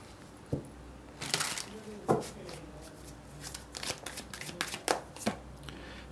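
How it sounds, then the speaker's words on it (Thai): Tarot cards shuffled by hand before a summary card is drawn: repeated crisp riffles and flicking snaps in uneven bursts, close and fairly clear over a quiet background. "ขอไพ่สรุปและแนะนำให้กับชาวธาตุไฟนะครับ"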